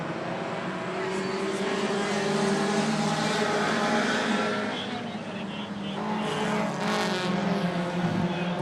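Lightning Stock race cars roar around a short track in a qualifier, a dense, continuous engine drone that swells and dips as the pack passes, with a commentator talking over it.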